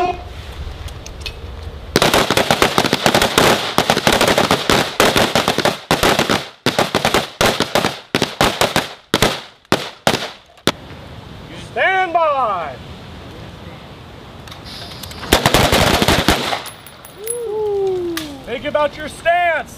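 Rifle gunfire during shooting training, with bursts of loud, rapid shots in irregular volleys and pauses, plus a final cluster of shots near the end, recorded outdoors at close range.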